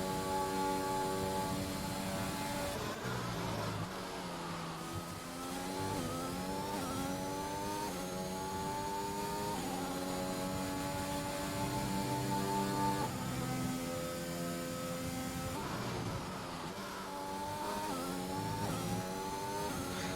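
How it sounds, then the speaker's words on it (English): Mercedes F1 power unit from the F1 2021 video game, Russia round, a loud continuous high-pitched engine wail with rising and falling revs through gear changes, heard alone without voices. "let's just take a moment to appreciate the noise of the Mercedes power unit"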